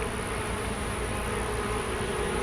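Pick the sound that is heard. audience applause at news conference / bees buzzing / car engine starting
bees buzzing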